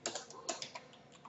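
Quick, light keystrokes tap on a computer keyboard while text is entered into video editing software, a short irregular burst of soft clicks close by.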